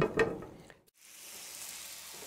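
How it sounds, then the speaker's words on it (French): Tomatoes frying in caramelizing sugar in a pan: a brief burst of stirring and scraping, a short pause, then a steady, fairly quiet sizzle with no talking. "je vais faire revenir les tomates dans le sucre"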